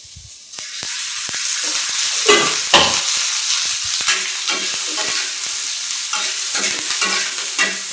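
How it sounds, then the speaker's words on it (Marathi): Chopped onion and a piece of ginger roasting and sizzling loudly in a hot pan while being stirred, cooked down until blackened for a spicy village-style chicken sukka, with steady frying hiss and scraping stir strokes. "अशा पद्धतीने कांदा सुद्धा मी भाजून घेणार आहे काळा होईपर्यंत."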